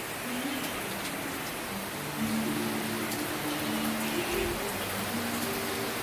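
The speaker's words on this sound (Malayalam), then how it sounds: "ഭയങ്കര മഴ ഭയങ്കര മഴ" Heavy rain pours outdoors as a steady, close wash of hiss, with faint low tones and a brief thump partway through beneath it.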